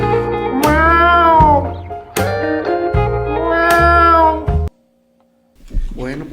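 A voice mimics a cat's meow in three long, drawn-out, sung cries, each loud and wavering, followed by a short pause and a brief final vocal sound.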